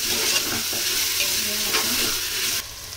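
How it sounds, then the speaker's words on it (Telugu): Chopped tomatoes sizzle and crackle in hot oil with fried onions, mint and coriander for chicken biryani, a close, steady frying hiss with faint stirring scrapes throughout. "కట్ చేసుకున్న టమోటాని దీంట్లో వేసుకోవాలి. వేసుకున్నాక దీన్ని కూడా బాగా ఫ్రై చేయాలి."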